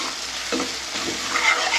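Hot lavangi green chillies sautéed in a pan for pav bhaji, a close, busy sizzle with a couple of stirring scrapes over a short moment, without any speech.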